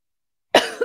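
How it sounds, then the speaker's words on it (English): A single sharp, close cough from one person after silence, with a short second burst at the end. "I started to cough this morning"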